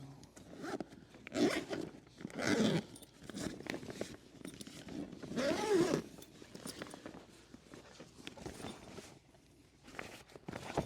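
Zipping shut the carry bag of a Happy Cat Neo trampoline, several close raspy zipper pulls in bursts, mixed with rustling fabric and handling noises, quiet overall.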